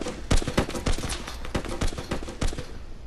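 Video game gunfire rings out as a rapid string of loud, sharp shots, about a dozen cracks in quick, slightly uneven succession, close and prominent with no talking.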